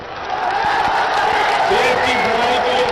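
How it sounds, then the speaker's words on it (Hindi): A large crowd at a political rally in Ghazipur applauds and cheers loudly and steadily, a dense roar of clapping and voices that fills the whole stretch, with no single speaker standing out. "आप मुझे ताली बजा करके जवाब देना"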